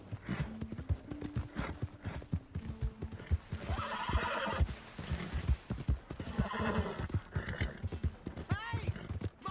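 A horse whinnies loudly in Red Dead Redemption 2 amid clip-clopping hooves and game sound effects, with a spoken voice in places.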